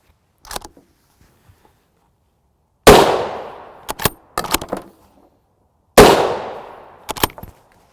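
Two sharp, loud rifle shots from a 7.62x51mm .308 Win firing 167-grain JHP rounds at a gel test, each cracking hard and ringing out, separated by a few seconds, with scattered small clicks and handling noises between them.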